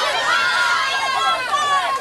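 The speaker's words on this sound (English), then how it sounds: "Crowd on their feet right now, going nuts as McKeever steps back in" A softball championship crowd on its feet cheers and shouts continuously, loud and lively, with voices rising over the steady roar.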